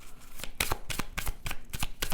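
Tarot cards are handled and shuffled close by, a brisk run of papery riffles and flicks repeating in quick bursts.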